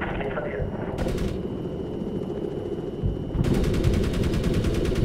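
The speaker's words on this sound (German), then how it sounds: "Ich baller jetzt da drauf, bis dieses Scheißding explodiert." Helicopter gunfire in the video game Medal of Honor, with sustained rapid bursts of machine-gun fire starting and stopping over a steady engine drone and loud throughout.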